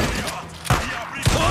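Two sharp gunshots ring out about half a second apart amid a busy, noisy game soundscape with muffled background chatter.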